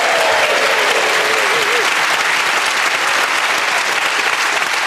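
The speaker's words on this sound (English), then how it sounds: "And a round of applause for our winner today, which is Sue Perkins." Sustained, dense applause from a television panel-game studio audience, loud and steady throughout, with a faint voice briefly audible near the start.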